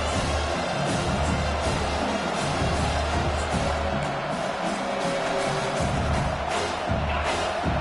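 A packed college football stadium crowd roars at full throat, a dense, sustained wall of cheering that stays loud throughout with no break.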